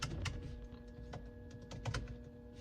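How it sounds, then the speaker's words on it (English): Quiet, rapid keystrokes tapped on a computer keyboard indoors, an irregular run of light clicks with a steady background hum. "I'm not doing well in typing today."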